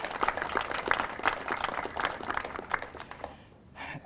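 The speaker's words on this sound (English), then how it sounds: "So a round of applause, please," Audience applause at the Silicon Valley Clean Energy launch ceremony, a moderate crowd clapping steadily for a few seconds before fading out near the end.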